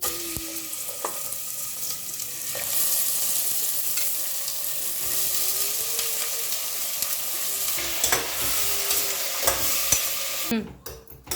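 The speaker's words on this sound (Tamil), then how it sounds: "கறி வதங்கிட்டு இருக்குதுமா" Half a kilo of mutton fries with whole spices in sesame oil, giving a steady, dense sizzle that fills the whole stretch, with occasional stirring scrapes and a clatter near the end.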